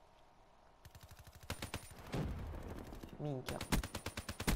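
Rapid automatic gunfire in Call of Duty: Black Ops 3, bursts of evenly spaced loud shots that grow denser and more sustained, with someone briefly speaking over the shooting.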